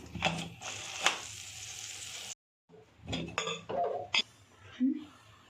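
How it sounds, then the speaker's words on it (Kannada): Metal clanks and clinks of a pressure cooker lid being fitted and pressed shut, a few sharp knocks with a short silent gap between bursts. "ಈಗ ಕುಕ್ಕರ್ ಮುಚ್ಚಿ ಒಂದು ವಿಷಲ್ ಹಾಕಿಸ್ಕೋಬೇಕು"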